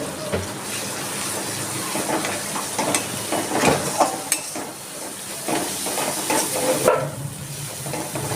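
Ground coconut paste hitting hot frying masala in a pan for a matar dal and kalmi shak dish, giving a steady close crackling sizzle with scraping stirs and light utensil clinks throughout.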